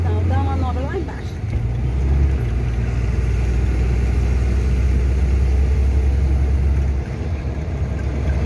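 A truck engine rumbles as it drives, a loud, steady low drone that holds throughout, with people talking over it.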